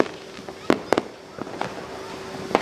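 Several sharp New Year fireworks bangs burst at uneven intervals, a couple in quick succession, with faint crackle and distant cheering between them, in San Jacinto, Pangasinan.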